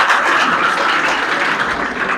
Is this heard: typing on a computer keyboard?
no